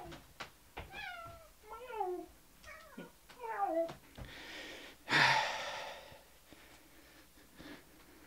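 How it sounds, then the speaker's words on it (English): A house cat meows close by, about half a dozen short rising and falling cries in quick succession, followed by a breathy exhale and quieter rustling. "Already have to deal with a cat."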